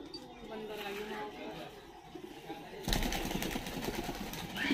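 A Saharanpuri pigeon coos softly in low, rounded tones, faint and close, before a louder, hissy burst of noise takes over the second half.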